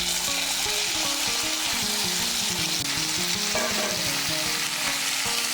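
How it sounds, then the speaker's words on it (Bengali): Yardlong beans and potatoes frying in hot oil, a steady close sizzle with faint stirring scrapes and a background tonal hum throughout. "মিশিয়ে নিয়ে বরবটিগুলোকেও আলুর সঙ্গে একটু ভেজে নেব।"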